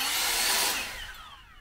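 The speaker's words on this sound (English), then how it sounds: "But it's an electric leaf blower." A corded electric leaf blower used for drying a car, a loud close whoosh of rushing air that holds for a moment and then eases down as it is switched off or turned away.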